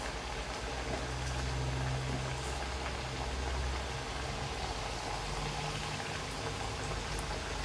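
Thekua, a wheat-flour Chhath puja sweet from Bihar, fries in oil over a low gas flame. It gives a steady, soft, continuous sizzle and bubbling hiss, fairly quiet and close, with a faint low hum underneath and no talking.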